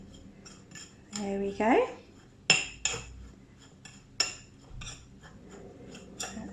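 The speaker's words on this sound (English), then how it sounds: "Let's give that a little mix just to start it off a little bit." A metal spoon clinks and scrapes against a bowl while mixing cocoa powder, a few sharp taps and scraping strokes in short bursts, with a person speaking briefly over it.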